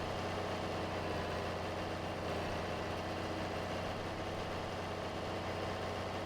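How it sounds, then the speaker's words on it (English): A tractor engine idles steadily in Farming Simulator 22, a constant low mechanical rumble that holds at an even level throughout with no talk over it. "this tractor is just a little ripper"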